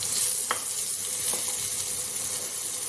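Capsicum frying in a pan on an induction cooktop during home Bengali cooking gives a steady, fairly loud sizzle, with a couple of brief stirring scrapes and no talking.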